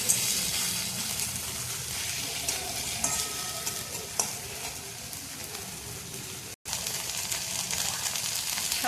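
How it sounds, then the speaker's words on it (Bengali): Onions and spices frying in a pan while being stirred, a constant close sizzle broken by scraping strokes of the spoon and one short clack, with no talking. "নাড়াচাড়া করছি, পেঁয়াজগুলো একটু গলিয়ে দেবো না, মশলা যত কষবো আস্তে আস্তে পেঁয়াজগুলো গলে যাবে।"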